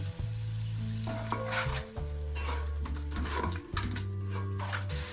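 Red chilli powder, chilli flakes, turmeric and salt sizzle steadily in hot oil in a pan for chana pulao, with a utensil scraping and clinking repeatedly as it stirs, close and loud, with no talk.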